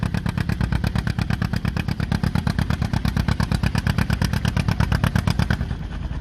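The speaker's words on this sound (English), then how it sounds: "This John Deere here is set up for pulling." A pulling-tuned John Deere tractor with twin stacks roars loud and close under full load at a tractor pull, its deep engine pounding in a steady rapid rhythm for most of the run before easing off near the end.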